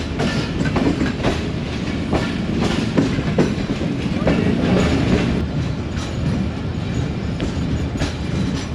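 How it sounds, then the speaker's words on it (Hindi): Jaffar Express hauled by ZC20 locomotive 6426, heard passing: a continuous close rumble with a steady clickety-clack of wheels over rail joints, repeating regularly throughout. "ये दोस्तों ZC20 6426 लाहौर से लेके आ रहा है 39 अब जाफर एक्सप्रेस को।"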